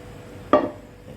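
A single metallic clank as a pot is set down or knocked, sharp and close, ringing briefly before fading into quiet room tone.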